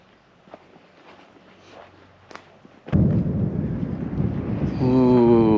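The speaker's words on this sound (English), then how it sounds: "Ooh, big thunder coming!" Thunder in Arizona, a deep heavy rumble that breaks in loudly after a quiet stretch and rolls on continuously, joined near the end by a brief tonal voice sound over the roar.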